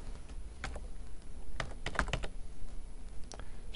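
Typing on a computer keyboard while entering a value in VBA code, heard as sparse clusters of light clicks with pauses between them, close and quiet, with no talking.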